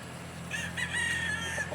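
Chickens cluck under a steady farmyard hum, then a rooster crows with a drawn-out, high call.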